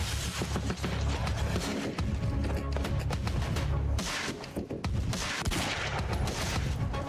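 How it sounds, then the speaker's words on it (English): Rapid sustained gunfire in the video game Quantum Break, loud dense volleys of shots crackling almost continuously with brief gaps, alone without talk. "I'm just shooting that one because I can."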